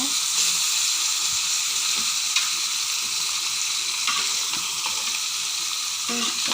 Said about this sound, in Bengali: এখন আমি মাংসটাকে নেড়ে চেড়ে মিশিয়ে নেব